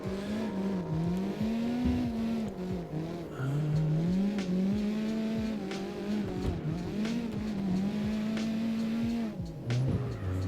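A Wellington S20 car in CarX Drift Racing Online drifts under throttle, its engine droning and revving in rising and falling waves while tires squeal almost continuously throughout, loud and close without speech.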